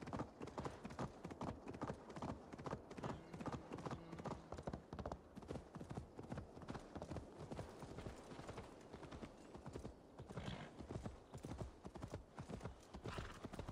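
Horse hooves clip-clop steadily in Assassin's Creed Valhalla, a rhythmic run of close, crisp hoofbeats lasting throughout, with occasional snorts and quiet game ambience beneath.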